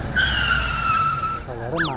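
A car braking hard with its tires skidding, heard as a sustained high squeal that cuts off and gives way to a short rising and falling engine or tire whine, with voices talking over it.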